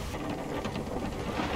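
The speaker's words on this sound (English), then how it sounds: "the lightning hit me fish!" A lightning strike and rolling thunder in the Sea of Thieves pirate video game, a dense crackling, rumbling burst that fills the short stretch at fairly loud, steady level with no talk.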